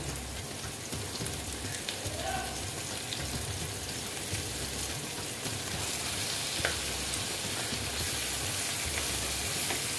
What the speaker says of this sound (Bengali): পেঁয়াজটা আমি ভালো মতন ভেজে নেব